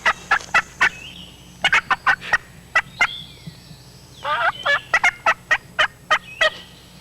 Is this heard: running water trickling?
no